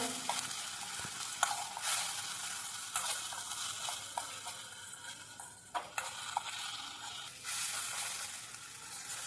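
Tomato chutney stirred in a pan, a quiet ongoing sizzle broken by repeated scraping strokes and soft clanks of the spoon against the pan, close and alone without talking.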